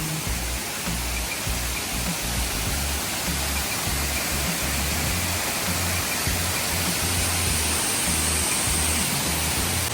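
Loud, constant rushing roar of Alakapuri (Kanjirakolli) waterfall in Kannur, a dense unbroken wash of water noise with no voices.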